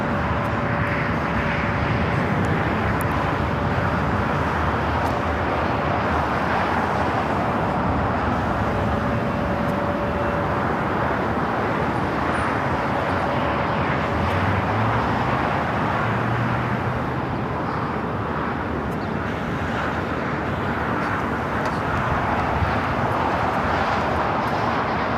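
An American Airlines Airbus A321neo jet at LAX gives a loud, sustained engine roar that fills the whole stretch without pause, with no one talking.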